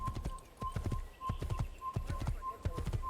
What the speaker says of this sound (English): Look at this horse all hoppy skippy.